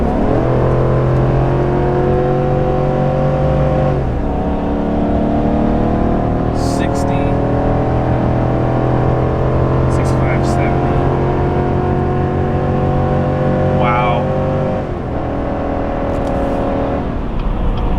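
A Chevrolet Silverado half-ton pickup accelerates at wide open throttle from about 40 mph, the engine note climbing loudly and steadily with audible gear shifts, heard from inside the cab.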